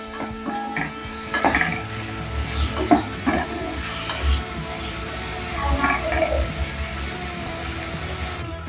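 Chopped tomato and green chilli fry in hot oil in a pan, giving a steady hiss with a few scraping stir sounds and light knocks and no voices.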